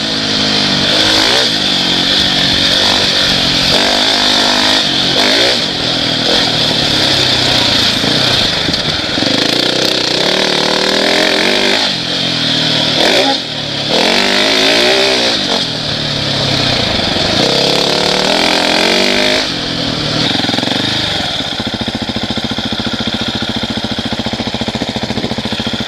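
A 2017 Husqvarna 701 Enduro motorcycle pulls away from a stop and accelerates through the gears. The close single-cylinder engine drones continuously with rising and falling pitch and brief dips at the shifts.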